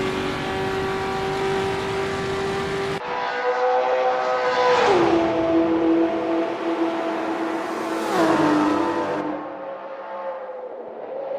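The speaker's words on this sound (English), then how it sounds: "I love listening to the roar of these engines." Racing car engines in an Assetto Corsa race at the 1966 Le Mans 24 Hours roar steadily, with two cars swelling and dropping in pitch as they pass, loud and continuous with no talk.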